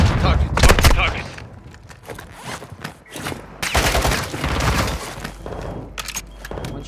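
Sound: gunfire in a video game

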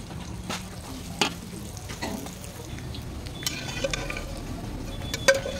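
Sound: eggplant frying in oil

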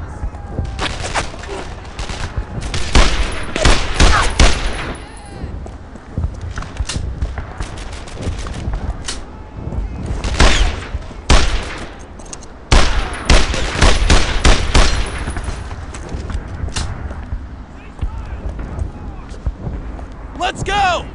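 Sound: grenade explosion and gunfire in the video game Brothers in Arms

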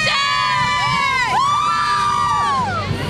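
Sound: crowd cheering for the Mustangs team

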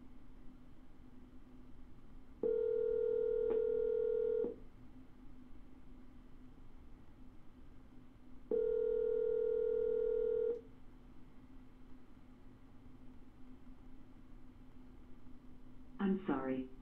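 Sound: telephone dial tone and redialing

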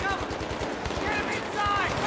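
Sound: sniper gunfire in video game Battlefield 3

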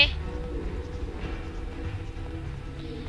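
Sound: Thomas train approaching in The Tunnel video game

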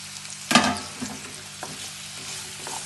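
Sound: radish and green chillies frying in a pan for pickle

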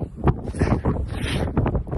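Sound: wind blowing into the microphone

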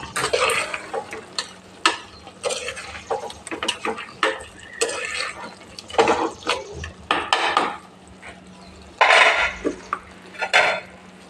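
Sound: stirring chicken coconut curry in a pot

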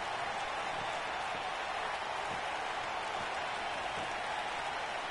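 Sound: crowd applause for a wrestler

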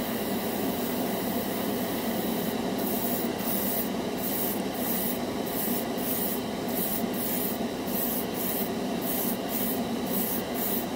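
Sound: dual action airbrush spraying a coat of paint

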